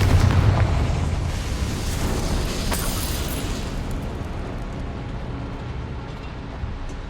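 A Confringo fire spell explodes in the video game Hogwarts Legacy with a loud, broad rumbling blast that fills the clip and slowly fades, with no voices over it.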